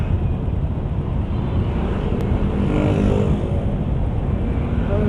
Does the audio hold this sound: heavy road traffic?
yes